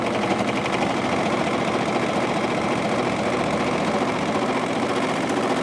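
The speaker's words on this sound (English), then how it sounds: "So let's go ahead and give it a surge." A Husqvarna Viking Amber Air s600 computerized serger runs continuously, giving a steady, dense mechanical whir and rapid rhythmic chatter, close and even in level throughout with no talking.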